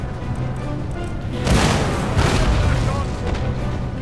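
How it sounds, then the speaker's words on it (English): Artillery fires canister shot in a multiplayer Empire Total War battle between Great Britain and Maratha: a loud, broad booming blast swells up midway and rumbles on, with smaller cracks of gunfire trailing after. "The general tries to take on my artillery for some reason, so I just canister shot them."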